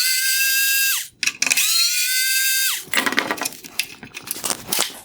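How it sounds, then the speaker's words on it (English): A power screwdriver backs out two T20 screws above the projector of a 2019-2020 Mercedes-Benz C400 Multi-Beam LED headlight, giving two sustained high whirs with a brief pause between, then clicks and handling clatter. "Next, I'll remove the 2 T20 screws above the projector"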